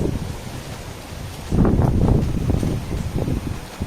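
Strong wind buffets the microphone near Durgapadu waterfall in Rayagada, a low rushing roar that surges louder after a second and a half and stays gusty to the end.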